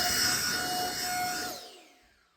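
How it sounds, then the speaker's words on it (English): A leaf blower roars steadily at close range, blasting rinse water off a Harley Davidson motorcycle, then cuts off and winds down over the final second. "take your leaf blower, and the water will blow right off"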